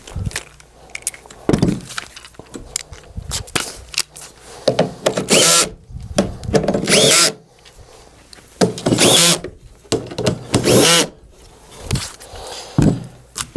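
A power drill drives screws into a housing in bursts of loud, high whirring, separated by pauses filled with clicks and handling noise, heard close with no talking.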